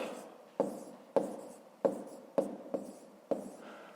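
Pen writing by hand on paper during a fifth-grade math exercise, six or so distinct scratchy strokes, each a sharp onset fading out, close and quiet with no talk.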